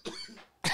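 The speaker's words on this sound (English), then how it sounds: "Your boy ain't coughed like that since last week." A man gives two harsh coughing bursts, close and loud, with a brief quieter gap between them and a sharper, louder second burst.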